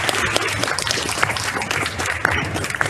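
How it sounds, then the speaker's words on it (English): Wedding guests at a semi-traditional Han wedding clap together in a steady, moderately loud burst of applause with a low murmur beneath. "I think we should have a clap for Steph"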